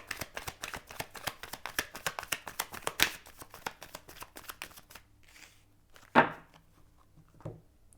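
Cartomancy cards riffle in a quick, steady run of close, crisp flutters for about five seconds, followed by a few sharper slaps as the deck is cut and set down.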